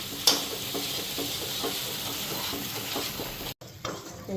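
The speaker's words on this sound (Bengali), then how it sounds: "এদিকে মশলাও ভাজা হয়ে গেছে।" Spice masala sizzles and fries in a pan on a home stove, a constant bright hiss with a few soft stirring scrapes, close and steady before a brief dropout near the end.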